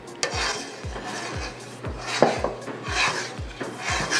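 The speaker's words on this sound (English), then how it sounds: "Stir this in to get a nice consistent mix" A spoon scrapes rhythmically around a pot as sharp cheddar is stirred into simmering liquid for Cajun grits, with steady repeated strokes about twice a second, close and clear.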